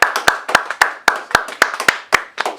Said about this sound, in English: Everybody, round of applause, man.